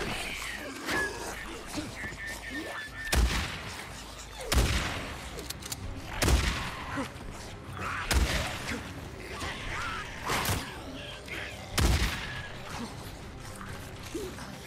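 Gunfire in the Days Gone video game: about half a dozen sharp, loud shots spaced a second or two apart, with lower-level in-game noise between them.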